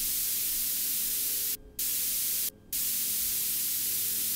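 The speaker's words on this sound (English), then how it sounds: "There's another layer to this lead melody, which is a white noise layer that matches the rhythm of the lead." A white noise layer bursts in hissing static blocks that follow the rhythm of the lead melody in a song, with two short clean gaps breaking the steady wash.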